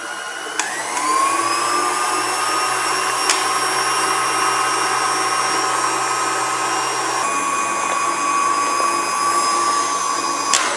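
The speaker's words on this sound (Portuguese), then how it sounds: "Então eu vou colocar ele aqui na batedeira e bater até um ponto firme para fazer o pavê." A stand mixer whips cream into firm peaks for a Brazilian pavê, its motor a steady loud whine that holds almost unchanged throughout, with no voices over it.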